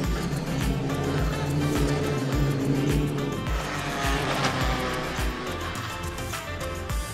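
A Formula 4 race car is pushed hard along the outside line through a corner at Zandvoort during second practice. Its engine sounds loud and continuous, with rapid gear-change pulses, and tire noise runs through the whole stretch.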